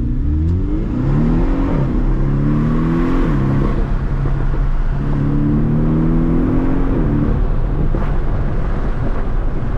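2018 Porsche 718 Cayman S accelerating hard on an open road, its engine note climbing through two rising pulls broken by gear shifts, loud and close, with wind buffeting the microphone.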